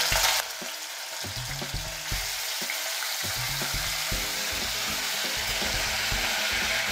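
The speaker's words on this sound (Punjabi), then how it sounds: "ਆਪਣਾ ਜਿਹੜਾ ਪਿਆਜ਼ ਤੇ ਲਸਣ ਅਦਰਕ ਦਾ ਪੇਸਟ ਸੀਗਾ ਉਹਨੂੰ ਆਪਾਂ ਵਿੱਚ ਪਾ ਦਾਂਗੇ" Onion, garlic and ginger paste frying in hot ghee with cumin seeds gives a dense, steady hiss and crackle, close and unbroken, with a low hum underneath.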